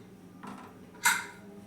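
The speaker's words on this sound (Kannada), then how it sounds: "ಕುಕ್ಕರ್ ಓಪನ್ ಮಾಡ್ಕೋತಾ ಇದ್ದೀನಿ." A pressure cooker lid being opened after one whistle and release of steam, while cooking keema sambar: a soft metallic shift followed by a sharper, louder clank, close by in a quiet kitchen.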